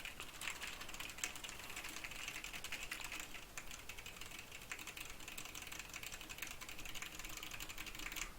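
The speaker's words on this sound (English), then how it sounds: "I'm just going to go ahead and hit some random keys right now" Random keys tapped on a Logitech G910 mechanical gaming keyboard, a dense, steady clatter of clicks running without pause for about eight seconds, close and fairly quiet, with no talking.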